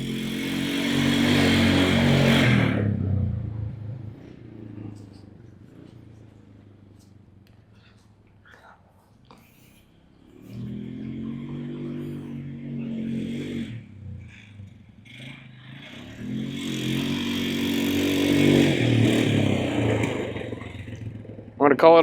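A 1999 Polaris Sportsman ATV rumbles along trails, its engine rising and falling in revving surges with clattering and scraping, one louder pass fading before the next, with a voice talking over it.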